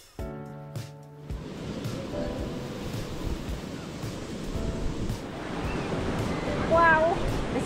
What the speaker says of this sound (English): what an amazing beach.